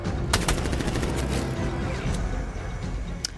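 Sentry guns in Batman: Arkham Knight fire a continuous, dense rattling stream, loud and close, with a few sharper cracks standing out above the steady barrage.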